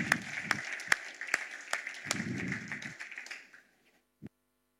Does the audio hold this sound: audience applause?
yes